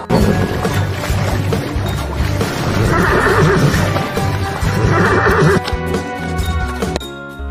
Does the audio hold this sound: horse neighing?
yes